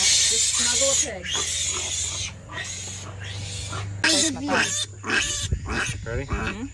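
A newborn piglet born in the woods grunts and squeals while being held, making rough repeated oinks up close. People talk throughout and a constant low hum runs underneath.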